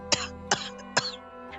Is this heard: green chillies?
no